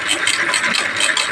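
Homemade electric bicycle converted from 48V to 72V, running on throttle; a steady, close whirring hum with a slight rattle that holds constant throughout.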